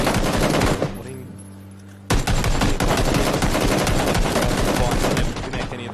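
Rapid gunshots and automatic weapon fire in PUBG during a competitive esports match, loud bursts that pause briefly, then resume in sustained sharp volleys throughout.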